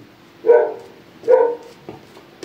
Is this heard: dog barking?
yes